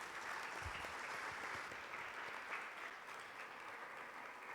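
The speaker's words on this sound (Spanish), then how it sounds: "Denle un fuerte aplauso a Dios por eso" A church congregation applauding during a service, continuous crowd clapping at a steady level, recorded quietly and from a distance.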